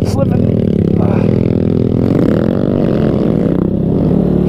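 An off-road motorcycle holds a revving, droning engine note as it wheelies through soft dirt, steady and close throughout with some clattering.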